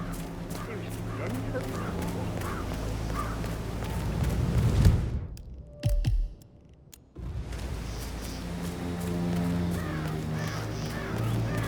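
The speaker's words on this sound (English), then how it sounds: "It's the birds. They're making a racket, droppings everywhere." Crows caw repeatedly across a moorland estate during funeral preparations in Hitman 3's Dartmoor level; the harsh calls recur under spoken dialogue and drop out briefly mid-way.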